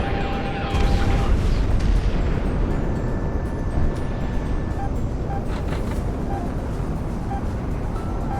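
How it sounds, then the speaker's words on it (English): A missile strikes the player's plane in Project Wingman, producing a loud, sustained explosive roar and rumble that fills the scene and stays steady, with faint tonal game sounds over it. "missile actually hit me"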